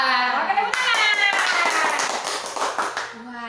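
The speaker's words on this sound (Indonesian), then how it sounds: "tepuk tangan" A few hand claps from a kindergarten teacher during an online animal-themed lesson, a short run of close taps mixed with speech in a bright, chatty voice.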